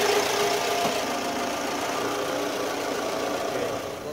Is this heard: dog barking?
no